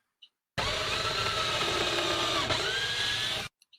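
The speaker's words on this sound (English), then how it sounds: "You can hold it down tightly and drill your pilot holes." A power drill whirs steadily for about three seconds, briefly bogging down as it bites into wood drilling a pilot hole, then stops, with a couple of small clicks before and after.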